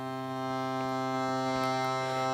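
A single sustained note Sa, the starting note of an octave in Indian music, held steadily on an instrument with a rich stack of harmonics, quiet and even for about two seconds with no talking.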